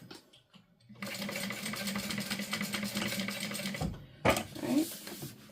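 A sewing machine stitches fabric in a fast, even mechanical whir for about three seconds, stops, then starts again in a shorter burst, close by and fairly quiet.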